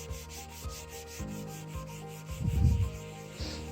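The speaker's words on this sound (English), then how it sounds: "Keep scrubbing, Baba." Scrubbing an old counter stain with a natural cleaner, a close rhythmic rubbing with short strokes about every half second and one heavier, louder scrub near the middle, with no talk.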